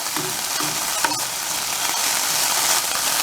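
Kale sizzles and fries in a pan, a steady bright crackle filling the whole stretch, with a few louder pops and stirring scrapes near the start.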